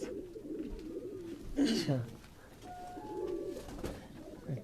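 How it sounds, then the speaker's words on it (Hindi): Pigeons coo softly on a rooftop loft in Quetta, a few low murmuring calls that fall under nearby talking. "ये भी कीड़े वाले कबूतर हैं जिन्हें इधर कीड़े वाले कह रहे हैं"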